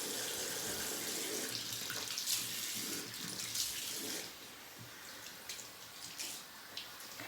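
Warm water runs from a sink tap, a steady splashing gush that eases off partway through, close and fairly quiet.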